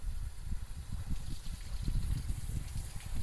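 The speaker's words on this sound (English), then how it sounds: "We're just gonna get some water in there and rinse this tank out, let it flush itself out" Water gushes and churns steadily inside a Polaris Ranger tank during a rinse and flush, a continuous, fairly loud sloshing rush with no speech.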